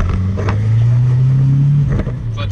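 Nissan 240SX S14 with a loose turbo pulling at wide open throttle in first gear, giving a loud, close engine drone that climbs steadily in pitch, then falls away near the end.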